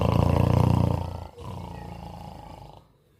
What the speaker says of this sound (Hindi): आराम फरमा रहे हैं, नींद्रा ले रहे हैं और साथ में तेज तेज खर्राटे भी चल रहे हैं